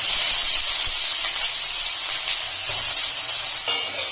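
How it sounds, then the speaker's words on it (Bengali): Loud, steady hiss of chopped onions frying in hot mustard oil, close up and continuous with no talking. "ফোড়নে দিয়ে দিচ্ছি কটা জিরে, দিচ্ছি সামান্য একটু হিং, দিয়ে দিচ্ছি পেঁয়াজ কুচি।"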